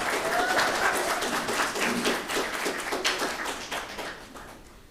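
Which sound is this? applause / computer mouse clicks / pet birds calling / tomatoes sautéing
applause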